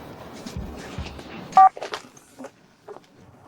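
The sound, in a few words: telephone call sound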